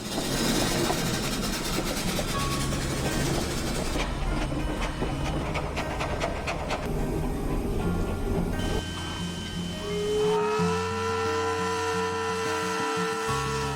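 A steam locomotive at a railroad and logging museum rumbles and clanks steadily, with a rhythmic chuffing and mechanical knocking, then a higher whine near the end.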